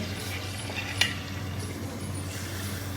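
Sugar tipped into a pan of frying semolina and egg halwa, a steady low sizzle and soft stirring scrape with one brief gritty pour and clink near the start.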